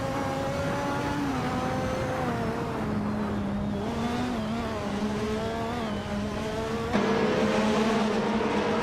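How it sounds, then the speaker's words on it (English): A Minardi M188 race car in a racing video game drones with a steady, high-pitched engine tone that rises and falls through gear changes, loud and close throughout. "Bot Fishings is driving a Minardi M188, a car known for its lightweight design and decent aerodynamics"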